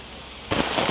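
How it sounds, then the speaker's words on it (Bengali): Heavy monsoon downpour in a forest near Jhargram, West Bengal, with a faint steady patter that suddenly swells into a loud, dense hiss of rain, as if drumming on an open umbrella. "মুষলধারে বৃষ্টি নেমেছে"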